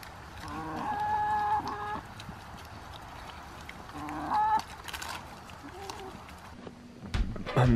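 Hens on a small farm cluck in short bursts, with a longer run of clucking near the start and another near the middle, over steady outdoor background noise.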